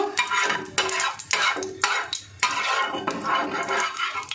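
Mustard oil spread around a frying pan on a gas stove, with repeated scraping and clattering strokes of a utensil against the metal in an irregular rhythm, loud and close.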